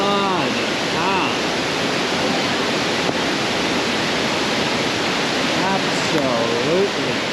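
Josephine Falls in full flood, a loud, unbroken roar of rushing water filling the scene, with voices briefly audible at the start and again near the end.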